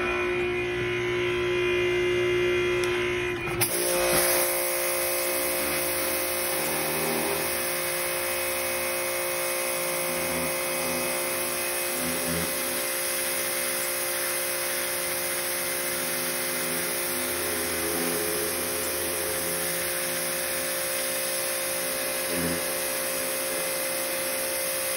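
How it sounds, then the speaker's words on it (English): A pressure washer spraying off rust remover, a loud steady high hiss and motor hum that starts after a few seconds with a click and then runs continuously, close-up, with small shifts in the spray noise. "Let me turn on the pressure washer and let's go for it."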